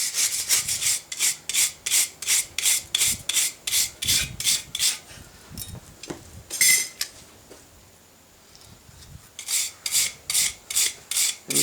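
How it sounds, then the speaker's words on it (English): A brass brush scrubs rhythmically across a heated metal penannular brooch to impart colour, a steady series of close, gritty rasping strokes with a short pause midway before the strokes resume. "with brass brushing, you don't need to get it red hot. It's basically just like a black heat, and just rubbing it until some of that colour imparts"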